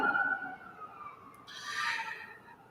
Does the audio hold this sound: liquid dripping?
no